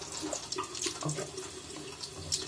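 Tap water runs steadily into a sink during a morning face rinse, a continuous close splashing stream with small spatter accents and no talk.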